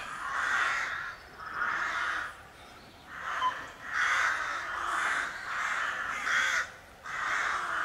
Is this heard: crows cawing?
yes